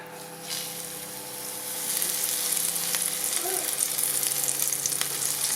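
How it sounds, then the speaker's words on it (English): Flathead fish fillets frying in hot oil give a steady, close crackling sizzle that swells louder after the first two seconds and holds without a break. "make sure our oil is nice and hot. Put him in."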